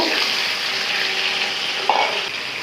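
Potato and pointed gourd pieces with turmeric, salt and coriander powder sizzle steadily in a pan, a continuous close frying hiss with one brief stir or clink near the end.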